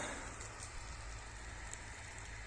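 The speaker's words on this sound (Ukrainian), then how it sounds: "починає падати дощ" Light rain begins falling outdoors during a sunflower harvest, a faint, steady hiss of drops pattering on surfaces with a few soft individual taps, no voices.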